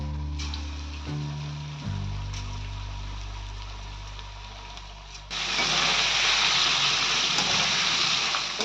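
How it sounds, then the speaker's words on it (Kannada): Prawns dropped into hot oil for frying, a low hum giving way midway to a sudden loud, dense sizzle that continues steadily to the end. "ಆಯಿಲ್ ಬಿಸಿ ಆಗಿದೆ, ಇದನ್ನು ಚೆನ್ನಾಗಿ ಫ್ರೈ ಮಾಡ್ಕೋಬೇಕು"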